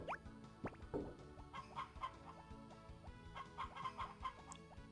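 Chickens in the Harvest Moon: Back to Nature farming game cluck in short, repeated bursts over a steady background music loop, with no talking.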